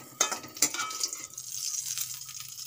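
Hot oil tempering is poured over chutney, giving a couple of sharp sizzling bursts followed by a softer, fading crackle, close and fairly quiet.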